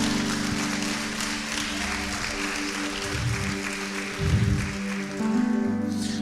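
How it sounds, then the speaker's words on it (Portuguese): A church congregation applauds in a steady wash of clapping that fills the room, swelling slightly toward the end, with no voices standing out. "aplauda ao Senhor."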